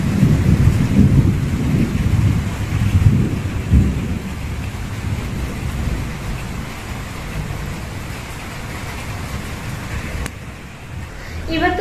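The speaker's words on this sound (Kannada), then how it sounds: "ಫುಲ್ ಮೋಡ ಆಗ್ಬಿಟ್ಟು ಗುಡುಗ್ತಾ ಇದೆ. ಸಣ್ಣದಾಗಿ ಮಳೆ ಕೂಡ ಬರ್ತಾ ಇದೆ." Heavy rumbling thunder rolls beneath light rain under a fully clouded evening sky, the deep growl strongest early on and fading out, while soft patter continues alone toward the end.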